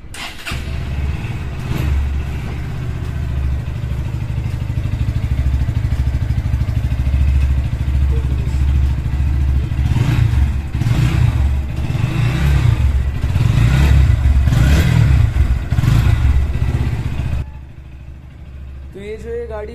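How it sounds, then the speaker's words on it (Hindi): A Bajaj Pulsar NS 160 motorcycle with its stock exhaust idles and is revved repeatedly, close and loud, with rising and falling throttle blips for about seventeen seconds before cutting to a quieter idle; a voice speaks briefly over it. "तो आप पहले इसका स्टॉक साउंड सुन लीजिए कैसे आता है NS में 160 में।"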